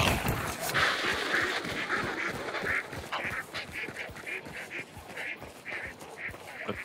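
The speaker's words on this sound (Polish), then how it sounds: "Te ptaki akurat nie były potrzebne." Ducks quack in the video game Hunt: Showdown, loud, rapid and continuous, as a flock calls repeatedly close by over a steady background rumble.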